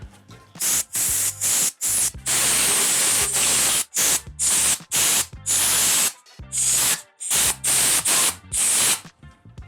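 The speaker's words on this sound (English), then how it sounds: "whenever I get to use an air compressor like this one" Short, loud hissing blasts of compressed air from an air compressor during a custom build of an Envy AOSv6 scooter deck. The bursts come in an irregular series with brief silent gaps between them.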